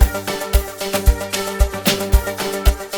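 A sustained synth drone sits inside an amapiano mix alongside rhythmic deep log-drum thumps and layered melodic tones, loud and continuous with evenly spaced low hits.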